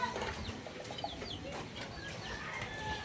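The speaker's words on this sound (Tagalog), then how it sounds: "Punta natin yung babaeng manok." A hen clucking faintly at a distance, with scattered short clucks and chirpy calls against a quiet farmyard background.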